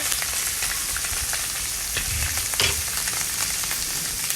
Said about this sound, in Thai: นี่ผัดพริกแกง หน่อไม้ของยายควรนะคะ